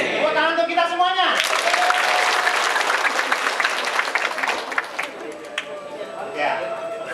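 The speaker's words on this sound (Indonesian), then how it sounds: "Tepuk tangan untuk kita semuanya." An audience at an Indonesian-language seminar breaks into sustained applause, dense clapping building after a brief spoken phrase and then gradually thinning toward the end.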